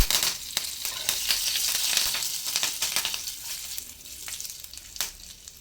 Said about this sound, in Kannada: ಸ್ವಲ್ಪ ಚಟ ಚಟ ಅನ್ನಲಿ. ಒಂದು ಸ್ವಲ್ಪ ಕರಿಬೇವು.